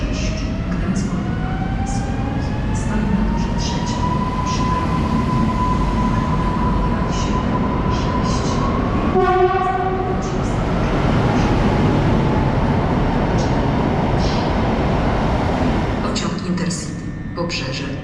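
A PKP Intercity train rolls through a station, wheels rumbling and squealing with a rising tone, while a Polish platform announcement echoes over the rail noise.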